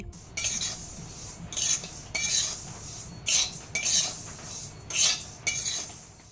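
White sesame seeds are dry roasted in a pan, stirred with a metal spoon in repeated rhythmic bursts of scraping and light clinking against the pan, with no voices.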